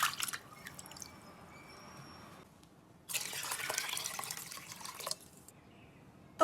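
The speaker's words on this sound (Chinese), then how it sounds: "先把豆子和米全部都给它清洗干净。" Soybeans and rice being rinsed in water by hand, with gentle dripping and splashing that swells into a stretch of louder sloshing and pouring, close and fairly quiet, with no voices.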